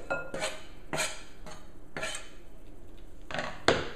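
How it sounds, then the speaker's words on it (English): Several sharp clinks and clatters as chopped garlic, jalapeno and onion drop into a glass bowl, spaced irregularly, close by with light kitchen handling in between. "So I just toss everything into my bowl here"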